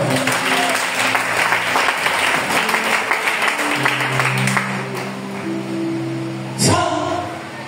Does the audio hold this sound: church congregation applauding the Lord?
yes